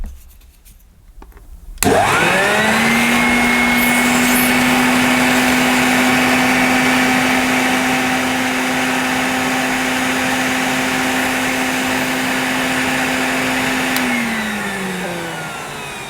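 A vintage Hoover Junior 1334A vacuum cleaner fitted with a crevice tool starts with a sharp switch-on. It holds a loud, steady motor whine with a droning tone, then the pitch drops slightly near the end.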